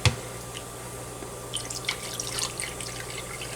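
Regular white vinegar trickles and drips into a container for Guyanese-style souse, a faint, close liquid sound with a few soft splashes and no voices.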